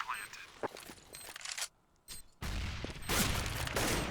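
An AK rifle fires in a Counter-Strike esports match, with short distant shots followed by louder sustained bursts of gunfire while a commentator talks throughout.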